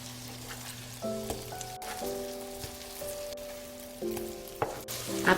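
Dongeurangttaeng patties fry in oil in a covered pan, giving a soft steady sizzle and crackle, with faint clinks and tonal hums from the kitchen around it.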